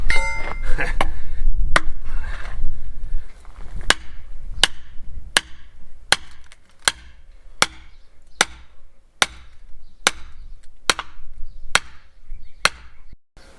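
Wood chopping with an axe splitting a single piece of firewood: a series of about eleven sharp, loud whacks at a steady rhythm, with some rustling and handling noise early on.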